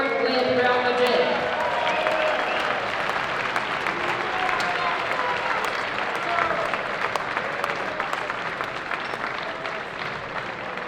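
A basketball crowd applauds the all-tournament team at an under-18 tournament final in Munich, a dense, sustained roar of clapping with crowd voices mixed in, slowly easing toward the end.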